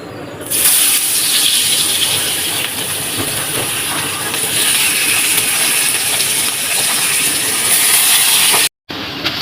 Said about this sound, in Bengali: রিঠা মাছটা আমি লবণ আর হলুদ দিয়ে মাখিয়ে নিয়েছি, এখন এটা আমি ভাজবো